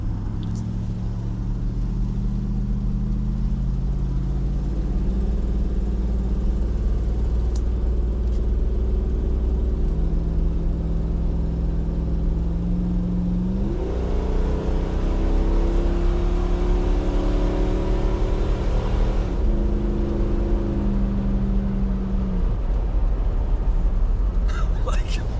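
A 2005 Dodge Ram's 5.7 Hemi gas V8 idles and revs steadily nearby, a low continuous rumble with a few rises in engine speed partway through.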